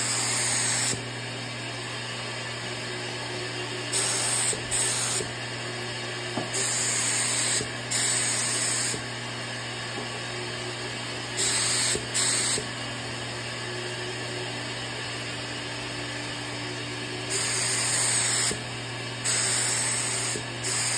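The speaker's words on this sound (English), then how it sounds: "So we got our lacquer in the container here. We're gonna hook up the air, turn on the machine" A Fuji Spray gun sprays lacquer with compressed air for a lightsaber display build, giving repeated bursts of loud hissing spray a second or two long over a steady humming machine drone.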